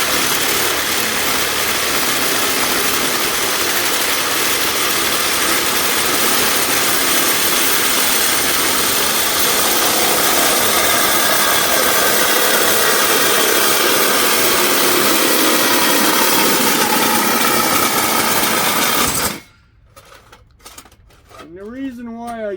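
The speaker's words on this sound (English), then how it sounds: "And the reason why I use a Sawzall on these" A Sawzall reciprocating saw cuts through a steel balloon air tank, giving a loud, steady buzzing drone that runs for about nineteen seconds and then stops abruptly, leaving quieter handling noises.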